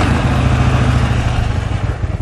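A 2013 Harley-Davidson FXDBP Street Bob motorcycle engine idles loudly up close, a deep lumpy rumble that stays steady, then loosens into a slightly uneven throb.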